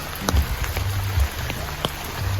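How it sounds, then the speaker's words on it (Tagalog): Heavy rain falls on a campsite, a steady dense patter with scattered louder drops and low thumps, close and continuous, with no talking. "Nakikiramdam na ako ng lakas ng ulan eh."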